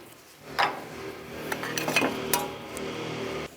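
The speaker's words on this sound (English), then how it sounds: "Carefully get in between the pad and the rotor and separate the 2." Metal-on-metal clinks and scraping as a brake pad is pried away from the rotor on a 2010-2013 Nissan Versa front brake, a few sharp close taps followed by a steady grinding scrape.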